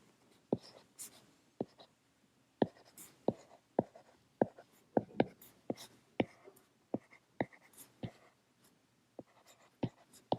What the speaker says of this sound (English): So let me write the same equation.